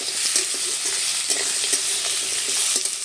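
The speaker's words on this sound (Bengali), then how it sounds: "এবারে দিয়ে দিচ্ছি কাঁকড়াগুলোকে মশলার সাথে মিশিয়ে নিচ্ছি" Crabs being stirred into a fried ginger, garlic and onion spice paste in a pan, a loud sizzle with repeated scraping strokes of a spatula, close up and without speech.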